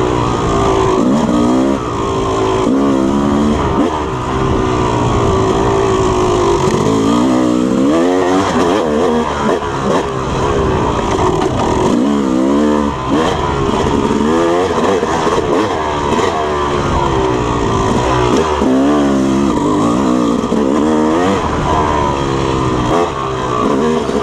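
A Yamaha YZ250 two-stroke dirt bike ridden hard through the woods, its engine loud and close throughout, constantly revving up and dropping back as the rider works through corners and terrain.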